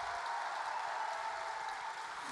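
An audience at a poetry slam applauds a poet with a steady, even wash of clapping that sounds somewhat distant and soft, with no clear individual claps.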